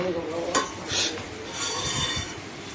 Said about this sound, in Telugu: ఎర్రగడ్డ వేసి బాగా గోల్డ్ కలర్ వచ్చేలా ఫ్రై చేయండి ఫ్రెండ్స్. గోల్డ్ కలర్ వచ్చేలా వేయించండి. బాగా వేగేదాకా కలపెట్టండి.